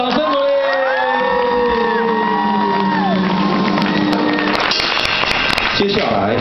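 A live studio audience at a Taiwanese comedy variety show cheers and whoops loudly alongside applause, a dense crowd roar with rising shouts and pitched yells throughout, swelling further near the end.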